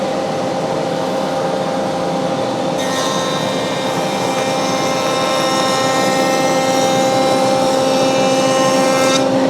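Shopsmith multipurpose machine set up for milling, taking a one-eighth inch cutting pass, giving a loud, steady motor whine with a cutting tone that thickens partway through and carries on continuously with no talk.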